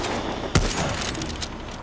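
Gunfire aimed at a vehicle windshield in the video game Far Cry 6: one sharp, loud shot stands out against steady game ambience, followed by faint scattered reports.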